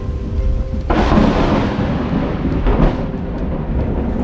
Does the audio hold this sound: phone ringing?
no